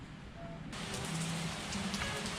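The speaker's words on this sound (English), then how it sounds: "it's starting to rain" Rain begins to fall in Ninh Binh, Vietnam, and quickly becomes a steady, soft hiss across the whole clip.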